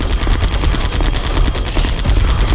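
Rapid, loud gunfire from the Metal Gear Solid: The Twin Snakes video game rattles continuously like a machine gun, dense and unbroken with no voices.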